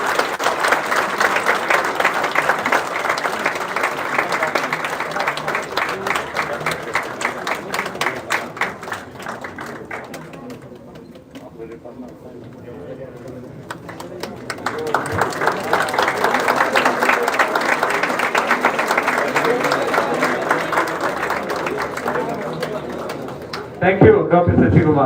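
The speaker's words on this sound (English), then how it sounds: "Let's put a round of applause for him." A convocation ceremony audience at CDAC Mumbai applauds a prize recipient. Dense, steady clapping fills the hall, dips briefly midway, then swells again before a sudden louder burst at the end.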